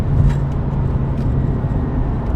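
A BMW M2 with a DCT transmission downshifts, its engine a loud, steady low rumble that fills the short stretch with no talking over it.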